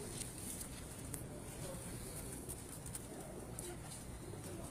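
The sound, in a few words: pigeons cooing on a rooftop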